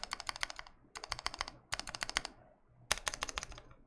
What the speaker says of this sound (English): So this is the enter button.